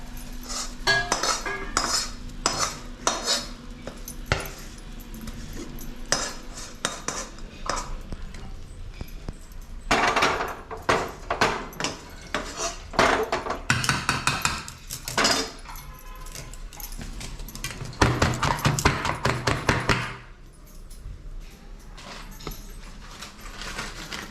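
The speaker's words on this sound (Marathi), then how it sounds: "गॅस बंद करते आपण ताटात ओतूया" Coconut barfi mixture is scraped and poured from a pan onto a plate, giving loud metallic scraping and clanking of utensils in bursts, with no talk.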